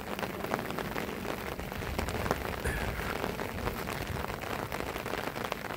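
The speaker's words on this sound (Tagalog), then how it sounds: "Kapag hindi pa tumigil ang ulan" Rain falls steadily on a flooded rice field, a dense, even patter of drops on water with no talk, holding at a moderate level throughout.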